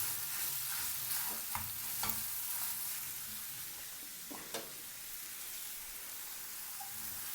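Chicken pieces fry in a pan of curry base with tomatoes, giving a steady broadband sizzle, with several sharp scrapes and clicks of a spoon stirring through the mix.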